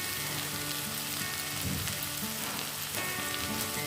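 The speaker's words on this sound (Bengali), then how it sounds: "এবার আমি এই সজনের শাকগুলো দিয়ে দেব।" Dal fry sizzles loudly and continuously in a pan as drumstick leaves are added, with a dense crackling hiss and a brief surge in the middle.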